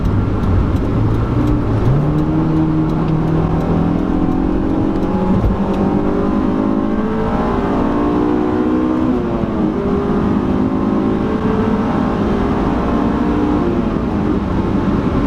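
A stock Honda S2000 drives and accelerates. Its engine note climbs and shifts through the gears with a steady, loud drone heard from inside the car, and nobody speaks.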